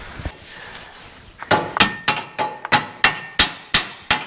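A hammer taps a Camaro subframe connector into place, about ten sharp metallic clanks in an even rhythm at close range, preceded by a couple of softer knocks.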